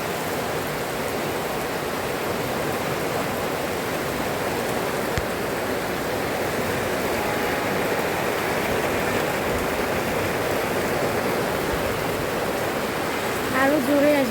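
Heavy rain drumming on a tin roof makes a dense, steady roar that stays loud and constant throughout, with a few brief knocks near the end.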